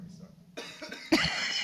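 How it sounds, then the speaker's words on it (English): A commentator coughs during a live World of Tanks esports league broadcast: two sharp, close bursts, the second louder, after a quiet moment. "I'm about to cough."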